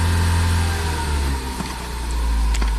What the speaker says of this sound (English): Just gonna power brake it a little bit.